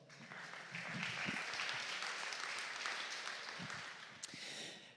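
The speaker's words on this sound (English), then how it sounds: "Give him a welcome applause, please." A conference hall crowd at the Ars Electronica Festival applauds steadily for several seconds, a dense wash of clapping at moderate distance that tapers slightly at the end.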